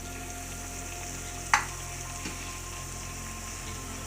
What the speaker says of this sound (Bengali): এই যে ঠিক এরকম করে ভেজে নেবে বিস্কুটগুলোকে